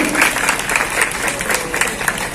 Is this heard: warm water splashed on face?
no